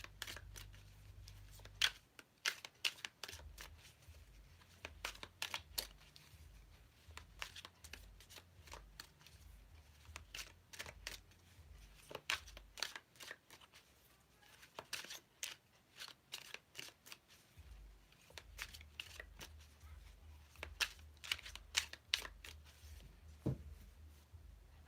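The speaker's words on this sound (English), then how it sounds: "Let me go ahead and shuffle these cards." A deck of tarot cards being shuffled by hand, with repeated riffling bursts and soft card slaps close up in a quiet room, continuing steadily with no talking.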